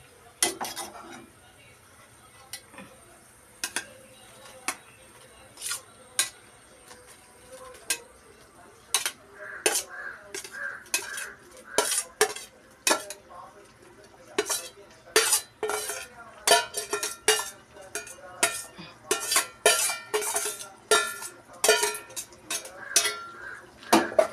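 Repeated sharp metallic clinks and scrapes of a spoon against a pot as cooked beetroot is added for pickle, irregular at first then quickening, with faint background hum.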